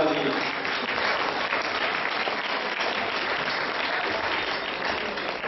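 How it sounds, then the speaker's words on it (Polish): Steady, dense applause from an audience for a performing folk group, filling the whole stretch at even loudness with no break. "Jeszcze raz brawa dla nich."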